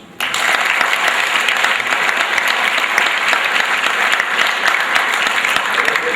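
A crowd at a school spring sports awards night gives a big round of applause, the clapping starting abruptly and staying loud and even from start to finish.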